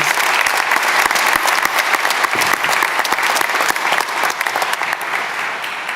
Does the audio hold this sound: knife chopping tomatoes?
no